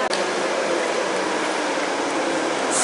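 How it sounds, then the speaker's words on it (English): A London Underground Piccadilly line train pulls into the station with a loud, steady rumbling roar, dense and close, with no voices over it. "There's the train that I'm getting."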